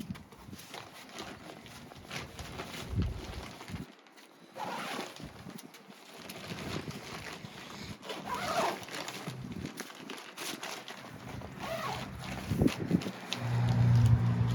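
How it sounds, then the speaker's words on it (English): Several short zipper pulls and rustling fabric as a tent roof hood door is zipped shut, fairly close, with brief pauses and soft handling noises between them. "Seal across the bottom, and a zip all the way across the bottom."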